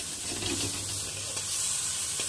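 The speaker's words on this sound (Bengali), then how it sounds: "তো দেখো চিংড়ি মাছটা ভাজা হয়ে গেছে" Prawns frying in a kadai with little oil give a steady, close sizzle and hiss that runs unbroken, with faint stirring scrapes and no voices.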